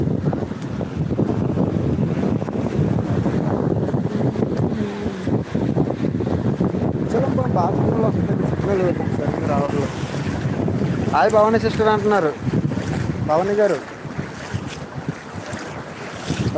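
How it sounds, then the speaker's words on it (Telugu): Steady wind and rolling surf roar at Muchalampalem beach in Anakapalli district as fishermen push a fishing boat into the sea, with people talking close by over the constant rush. "వేటకి వెళ్తున్నారు పడవైతే లోపల తోస్తున్నారు"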